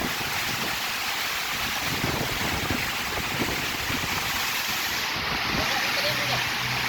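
Strong wind roars across a ship at sea in heavy rain, a loud continuous rush with buffeting on the microphone and wash of water beneath, while someone talks briefly.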